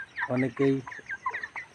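Broiler chickens on a poultry farm give a few loud, close clucks early on, then fainter clucking under someone speaking.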